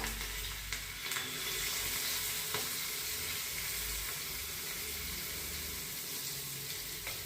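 Onion, green chillies and curry leaves fry in hot oil over a lowered gas flame, a dense continuous hiss of sizzling with a few faint stirring knocks, nobody talking.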